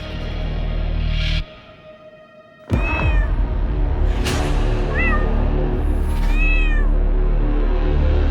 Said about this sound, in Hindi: बिल्ली पाल रखी है आपने तो, हैं?